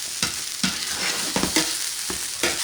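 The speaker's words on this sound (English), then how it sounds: "Now I'm just gonna start mixing this together." Hot dog topping ingredients, including bacon, being stirred and mixed together in a bowl, with about six short scraping, stirring strokes in an uneven rhythm, close and moderately loud, no talking.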